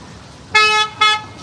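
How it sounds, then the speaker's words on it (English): Two short, loud car horn blasts sound in Los Angeles city traffic, one after the other with a brief gap, over a low street rumble. "they're honking. They're honking, guys."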